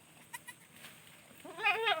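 A goat that has just given birth bleats on a farm, a couple of faint short calls early on, then a louder, wavering bleat close by near the end, with no speech.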